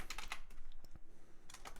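Key taps on a computer keyboard during a 3D sculpting session, a quick cluster of crisp clicks followed by a pause and a second short burst, close and fairly quiet.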